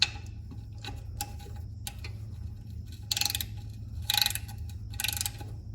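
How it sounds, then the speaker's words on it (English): A ratchet wrench tightens a fitting on a Cub Cadet 106 mower, giving a few quick bursts of close clicking against a steady low hum. "Let's get a ratchet."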